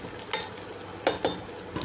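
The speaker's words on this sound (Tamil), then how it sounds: "நல்லா பொன்னிறமாக வதக்கணுன்னே" Mutton masala is stirred and sautéed in a pan until golden, giving a soft sizzle with a few sharp scrapes and clacks of a spoon against the pan.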